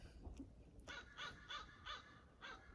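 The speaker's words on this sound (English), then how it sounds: "I can hear some dogs waking up, barking." Several dogs bark in the distance across a quiet lake, a handful of short, evenly spaced barks that sound faint against the still open air.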